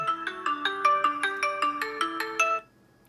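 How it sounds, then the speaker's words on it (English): A phone rings loudly and close after being triggered by a smartwatch's find-phone feature, playing a bright repeating melodic ringtone for about two and a half seconds before cutting off into silence. "your phone will ring."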